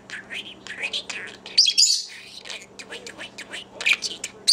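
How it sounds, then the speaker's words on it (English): A talking budgie chirping and twittering in quick bright bursts close by, interleaved with soft chattering and a person speaking quietly nearby. "Budgie. There's your bird."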